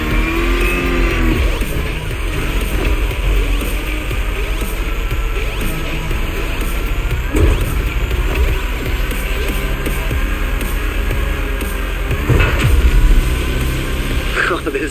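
A truck engine in The Crew Motorfest drones loud and steady at a constant throttle, with a couple of brief surges and rushing swells layered over the continuous roar.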